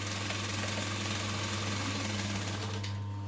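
A sewing machine stitches fabric panels along a quarter-inch seam in one steady, fast mechanical hum with a buzzing rattle, running close and unbroken until it stops abruptly at the end.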